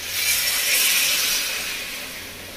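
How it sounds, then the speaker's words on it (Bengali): Hot water poured into a simmering village-style mutton curry with raw papaya, a broad hissing splash that swells quickly and then slowly fades over a couple of seconds, close and fairly loud. "সেই গরম জলটা আমি রান্নার মধ্যে দেবো"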